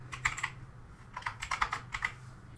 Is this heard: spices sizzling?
no